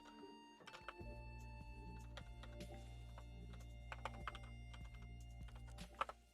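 Quiet, steady tapping on a computer keyboard runs throughout, irregular and close, over a constant low electrical hum, with one sharper key strike near the end and no voices.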